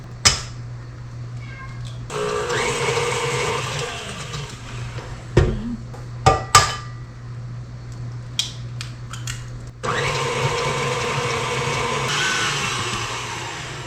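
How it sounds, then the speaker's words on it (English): Butter and sugar being creamed in a large bowl for banana bread, an intermittent electric mixer whir in bursts with clattering bumps and pauses between, moderately loud and close. "And a large bowl, cream together butter and sugar."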